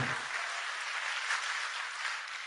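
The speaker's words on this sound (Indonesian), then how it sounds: "Tepuk tangannya kok kayak gak happy gitu ya." Church congregation applauding in a steady, dense wash of clapping that holds level for a couple of seconds, moderately loud and sustained, with no voices over it.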